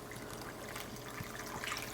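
Leftover water poured into a cooking pot during dinner preparation, a steady close trickle and splash running throughout with no talking.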